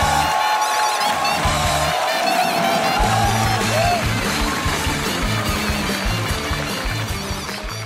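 A talk-show roast audience welcomes a rock singer guest with loud, sustained cheering and applause, a dense crowd roar with music underneath that fades slightly toward the end.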